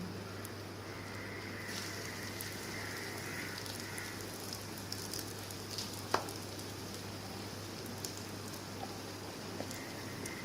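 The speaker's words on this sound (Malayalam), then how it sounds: "ഓയിൽ നന്നായിട്ട് ചൂടായ ശേഷം നമ്മളുടെ ബ്രെഡ് റോൾ ഓരോന്നായിട്ട് അതിലേക്കിട്ട് നമുക്കൊന്ന് ഫ്രൈ ചെയ്തെടുക്കണം." Chicken bread rolls deep-fry in hot oil, a soft, steady sizzle and crackle at low volume with a few small pops, and no voices.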